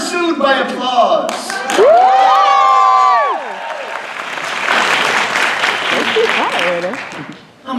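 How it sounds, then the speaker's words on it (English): An audience at a live tabletop role-playing show breaks into applause and cheering, building into a broad wash of clapping and whoops while a voice with a sung, wavering tone rings out over it at the start. "exit stage left, pursued by applause."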